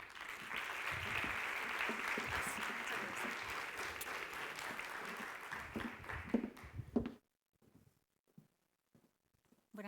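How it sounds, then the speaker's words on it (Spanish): A conference audience applauds a woman taking the stage at a women entrepreneurs' communication event; dense, sustained clapping for about seven seconds, then it cuts off abruptly into near silence with only a few faint, scattered sounds. "Así que un aplauso para ella."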